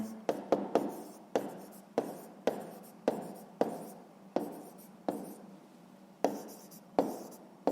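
Pen strokes on paper as a maths answer is written out, a series of sharp scratchy strokes and taps in irregular rhythm, close and fairly quiet with no talking.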